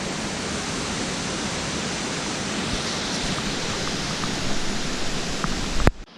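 Water seeping and trickling through the old George dam wall gives a steady, close, broadband rush with no pauses, swelling slightly near the end before a sharp knock.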